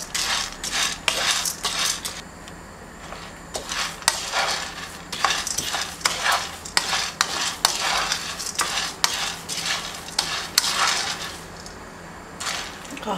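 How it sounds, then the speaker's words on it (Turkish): Coffee beans being roasted in a pan and stirred, giving a brisk, repeated scraping and rattling of the spoon against the metal, loud and close, with a faint sizzle in the background and no talking. "kahvemi bu şekilde kavurmaya devam edeceğim."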